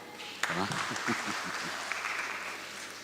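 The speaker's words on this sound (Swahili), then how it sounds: "Gieni makofi." Congregation clapping inside a PCEA church at Thogoto, a voice speaking over the start before the dense, even patter of many hands carries on alone.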